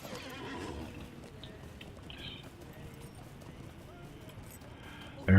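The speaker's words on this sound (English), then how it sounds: "let's go ahead and call a horse." In the Lord of the Rings Online video game, a summoned horse whinnies and its hooves clip-clop in a steady rhythm at moderate volume, with a voice talking over it.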